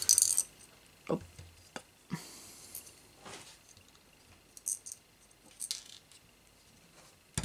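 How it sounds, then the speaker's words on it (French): A small metal nut on an R2-D2 model build drops and clatters, producing a few sharp, faint taps and ticks scattered across an otherwise quiet room. "Alors, mon écrou est tombé."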